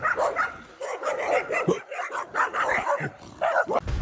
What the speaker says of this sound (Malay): Dekat 8 ekor anjing serang.